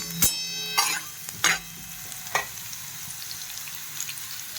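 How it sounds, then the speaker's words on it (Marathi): Finely chopped onion sautés in a pan. A low, soft sizzle sits under four distinct spoon knocks against the pan, spaced about a second apart, then quieter stirring. "यामध्ये मी आता कट केलेला कांदा टाकलेला आहे।"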